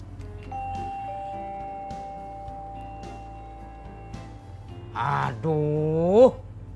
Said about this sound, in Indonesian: udah 2 kali mencet bel, nggak ada satupun orang yang keluar nemuin saya